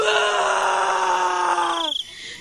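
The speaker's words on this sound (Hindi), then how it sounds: "उसकी चीख निकल जाती है" A cartoon man lets out a long, loud, sustained scream of fright, wavering and breaking up into a shaky tremble before cutting off, close and alone.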